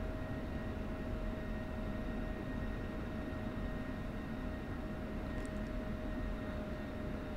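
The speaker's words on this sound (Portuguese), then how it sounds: "Os caras ficam meia hora taxiando, filho." Jet aircraft taxiing in the DCS World flight simulator game, a steady, continuous engine roar with a constant whine, held at an even level throughout with no talk.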